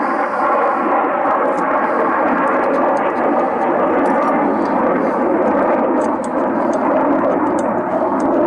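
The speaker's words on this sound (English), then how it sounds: "Sorry about the plane going over." Steady broadband roar of an airplane passing overhead outdoors, loud and continuous throughout, with faint ticks and clinks of bolt work on a truck hitch installation layered on top.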